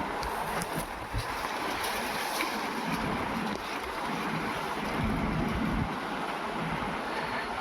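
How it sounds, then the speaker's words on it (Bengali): Strong wind blows at the end of a hot day, a steady, close, full roar of rushing air buffeting the microphone throughout, with no voices. "এখন দেখো কি সুন্দর হাওয়া উঠছে"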